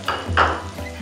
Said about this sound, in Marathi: आपलं तूप चांगला मस्त गरम झाल्यावरती यामध्ये आपण ओल्या नारळाचा खीस टाकून घेऊया